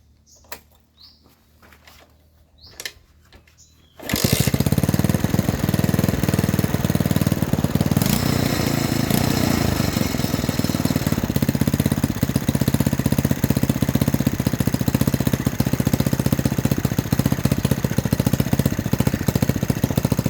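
After a few seconds of faint background sounds, a small gasoline engine starts and runs loudly and steadily, idling with a continuous rattling drone.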